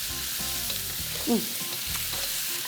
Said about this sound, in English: I'm stir frying these now